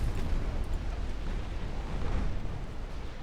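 Torpedoes strike the bow of a battleship in Ultimate Admiral: Dreadnoughts, setting off a loud, sustained rumbling explosion that roars on without a break for several seconds.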